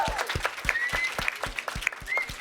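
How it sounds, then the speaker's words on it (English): An audience applauds startups at an innovation event's grand finale, with distinct, fairly sparse claps in a quick irregular rhythm at moderate volume, a few sharp whistles cutting through the clapping. "let's round of applause for all of these marvelous startups"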